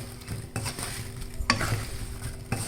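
Apples for a cobbler are stirred in a pan, soft scraping and clinking of a utensil over a gentle low sizzle, close and fairly quiet, with a sharper knock midway.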